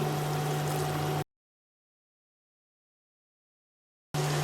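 Onion leaf pakoras fry in hot oil with a steady, bright sizzling hiss over a low hum. The sound drops out into total silence partway through, then the sizzle returns.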